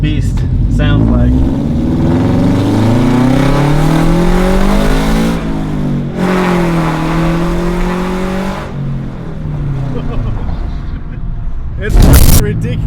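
A loud widebody Subaru BRZ engine revs hard through an exhaust with a leak, rising and falling in several long pulls up close with a raspy roar, then a sharp final blip near the end.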